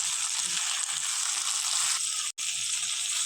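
Potatoes fry with a steady, close sizzle in a pan as they are salted and stirred, the hiss continuous apart from one brief cut near the end.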